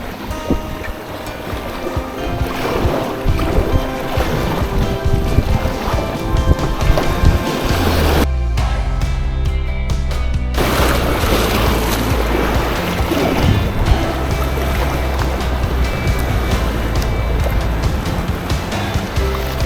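Steady wash of sea water and wind around a solo sea kayak off the Scottish isle of Iona, with paddle strokes and splashing close by, briefly cut by a short quieter gap midway.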